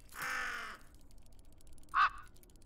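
Cawing of a bird in the Tick Tock: A Tale for Two video game, with one long harsh caw followed after a pause by a second short, sharp caw, both clear and close with no talk.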